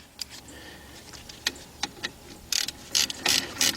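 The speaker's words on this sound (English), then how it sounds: "Now, if you're doing this with a ratchet" A hand ratchet clicks in short bursts while tightening front brake caliper bolts on a 2005 Chevy Impala 3.8, with sparse single ticks at first and then quicker, louder runs of rapid clicking close up.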